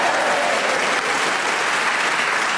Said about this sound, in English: did you ever expect to get a round of applause for saying you wet yourself on your first day at school, Julian?